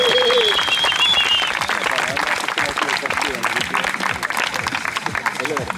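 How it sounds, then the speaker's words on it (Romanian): Crowd applause at an outdoor awards ceremony for a Mogoșa downhill mountain-bike race, dense steady clapping throughout with a voice speaking over the start. "încă o dată aplauze pentru Danica"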